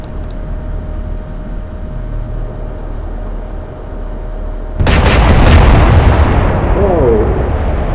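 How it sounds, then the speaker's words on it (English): Two loud explosions go off in the naval combat video game Atlantic Fleet, a heavy booming burst following a long stretch of low rumbling ambience, with ringing debris noise trailing after. "That was 2 explosions there."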